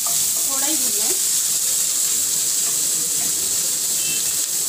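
Onion frying lightly in a pan for masala dosa, a constant dense hiss of sizzling oil throughout, with a brief tonal voice-like trace early on and no clear speech.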